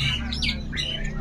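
A rosella parrot gives harsh squawking calls, two strident bursts in quick succession, loud and close against a steady low background hum.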